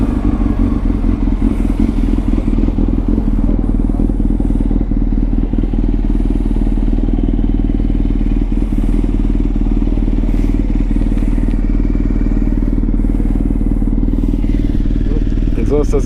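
A 1999 Yamaha YZF600R sport bike with about 40,000 miles idles steadily through its exhaust, a loud continuous low rumble with occasional clatter and mechanical ticks, and someone talks over the engine.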